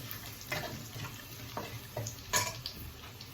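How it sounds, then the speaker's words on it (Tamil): Garlic sautéing on low heat in a pan for palak paneer, a soft steady sizzle with a few light stirring scrapes and clinks, close and quiet with no talk. "சிம்மில் வச்சு நல்லா அதை வதக்கிக்கலாம்."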